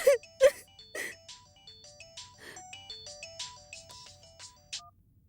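A mobile phone ringtone plays a melodic electronic tune of repeated short notes over several seconds, ringing unanswered, with a few sharp sounds at the start and a quiet background hum.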